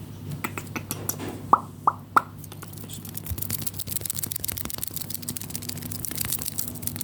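Shaving cream squished and dabbed on quickly, with a few sharp wet pops, then steady soft scratchy foam sounds close to the microphone.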